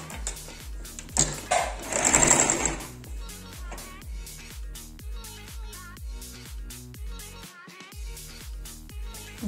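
A sewing machine stitches a seam around three layered pieces of a recycled quilt, its needle thumping in a quick, regular pulse at close range, with a short burst of talk near the start.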